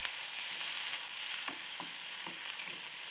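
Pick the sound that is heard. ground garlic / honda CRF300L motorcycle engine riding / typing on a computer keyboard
ground garlic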